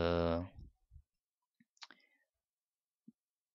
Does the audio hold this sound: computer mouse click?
yes